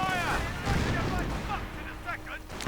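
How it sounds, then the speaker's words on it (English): Machine gun fire rattles in a World War II strategy video game battle, bursts of booming shots and explosions layered in a busy mix, while a voice talks over the action. "biggest machine gun opening up"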